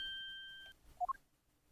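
A short melodic ringtone from the Ace Attorney Investigations video game, Godot's own theme, heard as two quick bright tones after a sustained beeping tone, fairly faint.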